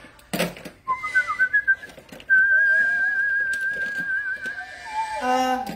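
A person whistles a melodic tune up close, with sustained and wavering notes after a few short sharp bursts, and a faint clatter near the start.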